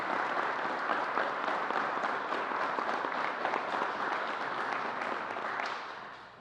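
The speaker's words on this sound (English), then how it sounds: "Let's give the NFTA a round of applause." Audience applause at a New York governor's COVID briefing, a dense sustained round of clapping from a room of people that holds steady and then tapers off at the end.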